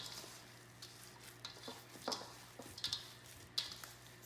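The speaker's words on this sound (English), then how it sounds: "so now we're just mixing up the rice and meat, trying to get that all incorporated really well" Raw rice and meat filling for grape leaf rolls is mixed by hand, giving soft wet squishing and stirring sounds with occasional small clicks, close and quiet.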